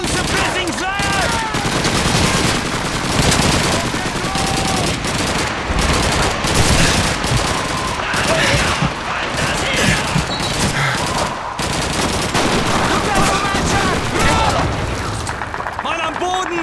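Dense, continuous automatic and rifle gunfire fills the Stalingrad city hall battle in Call of Duty 2, with rapid bursts and occasional booms running without pause, while shouted voices come through the din.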